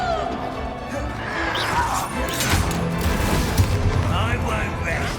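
Bombarda blasting spell explosions in Hogwarts Legacy combat against goblins, crashing bursts and impacts over a dense, loud battle din with voices grunting and calling under the noise.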